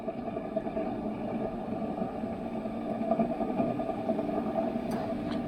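A 100-year-old 415-volt three-phase AC electric motor runs with a steady low hum and mechanical drone, close and even in level, with a couple of faint clicks near the end and no speech.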